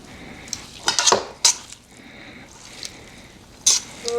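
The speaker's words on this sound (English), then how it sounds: "So it's just a matter of now adding them to the sauce." Cooked ramen noodles go into a pan of peanut butter sauce, producing a few sharp metallic clinks and scrapes of utensil against pan with quiet pauses between them.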